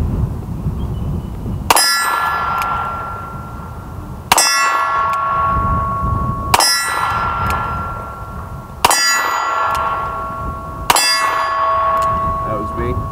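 .357 Magnum revolver shots each followed by a bright ringing clang from a steel target bolt, five evenly spaced impacts, loud and close with lingering metallic tones.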